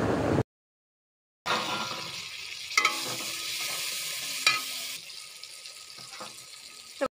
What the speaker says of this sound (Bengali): দেখতেই পাচ্ছ আমার বেগুনটাকে ভালোভাবে ভেজে নিয়েছি